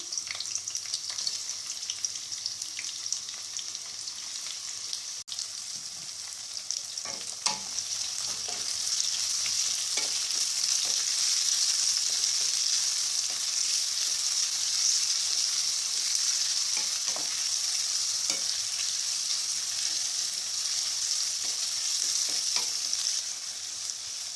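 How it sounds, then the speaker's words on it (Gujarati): Three medium chopped onions fry in hot oil in a pan, a steady close hiss and sizzle that runs throughout with occasional soft clinks of stirring. "હવે આની અંદર 3 મીડિયમ સાઇઝની ડુંગળીને મેં આ રીતે કાપીને રાખી છે એ ઉમેરીશું"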